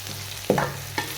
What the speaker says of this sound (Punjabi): ਇਹ ਪਿਆਜ਼ ਆਪਣਾ ਭੁੱਜ ਚੱਲਿਆ ਵਾ